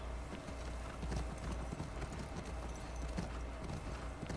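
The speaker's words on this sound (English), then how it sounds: "we're gonna ride our horse to the Seattle Dome" Horse hooves clip-clop steadily at a riding pace in The Last of Us Part II, a continuous, fairly close rhythm of hoofbeats set against low ambient game background, with no talking.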